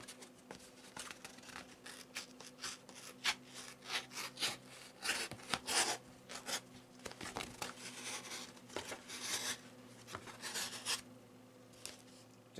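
A Mora Basic 546 knife with a factory edge slicing through cardboard, giving a quiet, close series of scratchy rasping strokes and crinkly tearing bursts in an irregular rhythm.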